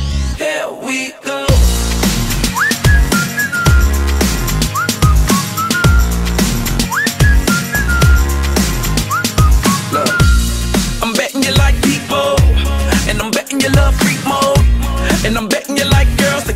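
Melodic whistling over a loud, rhythmic music track with heavy bass, the whistled phrases recurring throughout.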